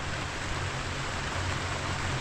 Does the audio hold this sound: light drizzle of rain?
yes